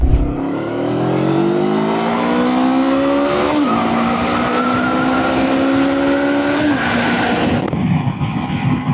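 A Honda CB500 Hornet motorcycle pulls away from a standstill, its engine note climbing loudly through the gears with two clear shifts, close and continuous with no talk.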